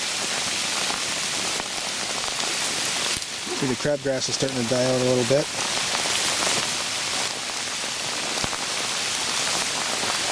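Steady rain patters over a no-till food plot with patchy crabgrass outdoors, a constant broadband hiss throughout, while someone talks briefly partway through.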